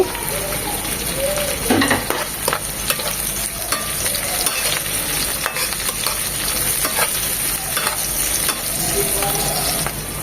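Garlic and chopped onion fry in oil with green chillies, a close, busy sizzle accompanied by repeated scraping and stirring strokes across the pan, steady from start to finish.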